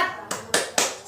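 Three sharp, evenly spaced group claps from workshop participants doing a rhythmic clapping chant, quick and fairly close with a faint tonal voice underneath.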